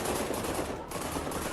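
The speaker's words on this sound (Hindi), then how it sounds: "नेशनल गार्ड्स का तीसरा जवान आतंकी पर फायर करता है" Rapid, dense gunfire rattles continuously during a shootout near the White House in Washington, D.C., a harsh burst of shots with a brief dip before it resumes.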